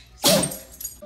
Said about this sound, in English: Dogs play sneeze when they're feeling excited or playful.